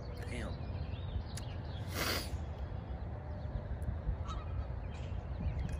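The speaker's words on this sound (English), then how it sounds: "Like those geese over there. That's not what a goose sounds like." Geese honking somewhere in the distance, a few short honks over steady outdoor background noise, with a person talking nearby.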